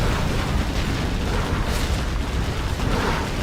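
A nuke cannon explosion in a competitive strategy video game booms as a dense, sustained roar. The rumble stays loud and steady across the whole stretch with no pauses.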